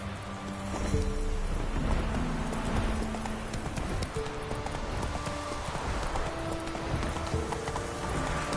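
Horse hooves clip-clop steadily at a gallop in The Witcher 3, a continuous rhythmic pounding close up over dense game ambience, with faint whinnying and a loud, even level throughout.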